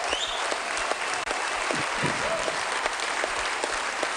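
A bowling hall crowd at a tenpin match in Munich, Germany, applauds steadily through a strike streak, dense and loud clapping with no break apart from one brief dip.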